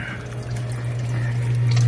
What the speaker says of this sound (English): you can see the water running across the cube trays